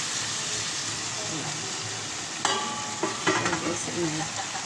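A cornstarch, cassava starch and water slurry stirred into a hot pan of beef and broccoli, a steady close sizzle with metal utensil clinks and scrapes toward the end.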